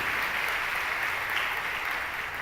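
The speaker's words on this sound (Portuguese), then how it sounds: "Pode aplaudir isso." Congregation at a healing Mass applauding during the homily, a steady, dense roar of many hands clapping continuously at moderate loudness.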